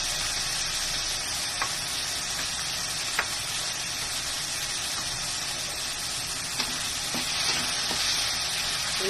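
Tomatoes fry in a pan with golden-browned garlic, a steady, dense sizzle up close, broken by occasional light taps and clicks of a utensil.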